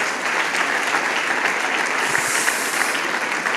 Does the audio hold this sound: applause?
yes